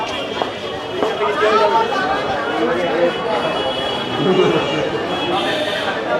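Steady crowd chatter and bustle at Taki railway station on a Sunday market day, with overlapping voices, scattered footsteps and movement nearby throughout.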